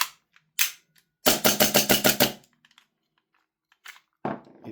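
An EMG/Army/T8 Colt Defender airsoft gas blowback pistol fires close and loud: a couple of single sharp cracks, then a quick string of about eight rapid shots, then a few more isolated shots.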